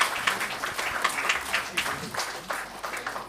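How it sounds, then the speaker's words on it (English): An audience claps in a brief, fairly faint burst of applause at a religious commemoration for Blessed James Alberione, with uneven pulses of clapping and a little crowd murmur. "Let's give a big round of applause for these great stars of the day."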